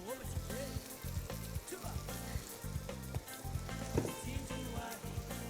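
Small red onions sizzle steadily as they fry in olive oil in a pan, a close, continuous crackle that runs over a rhythmic low background throughout.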